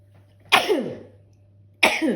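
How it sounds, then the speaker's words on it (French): Two sharp, explosive sneezes about a second apart, each bursting loudly then trailing off, with nothing else in between. "là, j'ai crise d'éternuement de tout"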